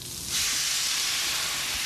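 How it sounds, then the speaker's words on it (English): Steak sizzling on a hot pan, a steady broadband hiss that swells after a brief quieter start and holds loud and close, with no talk. "Delicious sizzling steak with caramelised red onion."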